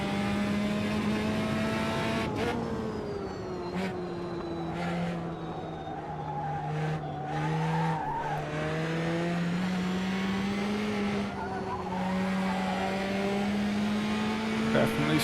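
A Formula Trainer race car in the video game Automobilista, fitted with wings and lapping the Red Bull Ring. Its engine whines steadily close by, with pitch rising and falling through gear changes and corners, under occasional talk.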